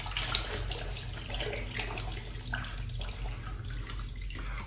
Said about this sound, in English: Let's rinse it off and touch it up.